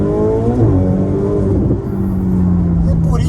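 A Ferrari 488 Spider's engine rises in pitch under acceleration, then holds a loud, steady droning tone close by.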